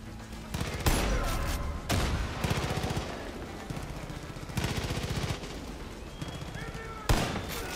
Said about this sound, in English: Lord, this is a powerful rifle.